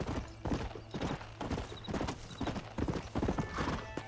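Horse hooves clip-clopping at a steady gallop across open wilderness in the Western video game Red Dead Redemption, with a horse's whinny rising near the end, loud and close throughout.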